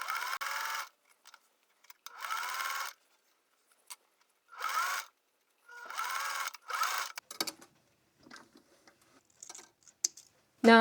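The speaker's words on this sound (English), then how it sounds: "I'm going to start sewing from the center front to the edge of the brim." A sewing machine stitches a flat cap brim from center front to edge in several separate short bursts of rapid, close needle clatter, broken by quiet pauses and light handling noises.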